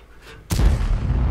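A tank cannon fires in the World of Tanks video game, one sudden heavy boom with a rumbling tail, preceded by a brief faint whoosh.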